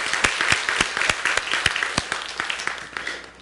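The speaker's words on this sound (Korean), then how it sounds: "오늘 찬양대에게 한번 박수 한번 드리겠습니다" A church congregation applauds the choir during a Methodist Thanksgiving Sunday service, a brief round of scattered, distinct hand claps that thins out toward the end.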